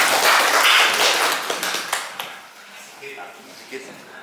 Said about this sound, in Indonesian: Tepuk tangan ini untuk beliau.